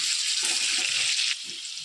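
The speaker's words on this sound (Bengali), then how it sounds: "একটু সামান্য হলুদের গুঁড়ো দিয়ে একটু পেঁয়াজটাকে ভেজে নেওয়া হবে" Sliced onion with a little turmeric powder fries in a pan, a soft, steady sizzle with a faint stir partway through and no talk over it.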